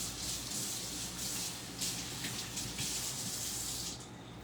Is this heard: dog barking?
no